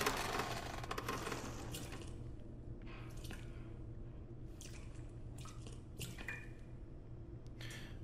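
Scattered water drips fall at irregular intervals in Resident Evil 2, soft plinks over a constant low rumbling ambience, faint and without voices.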